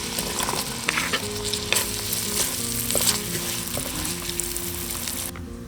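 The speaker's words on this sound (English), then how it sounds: "Then we add the onions. Shallots, and let them cook over medium heat until they're soft." Onions and shallots sautéing over medium heat in a pan, a steady close sizzle with frequent stirring scrapes and clicks running throughout, no voices.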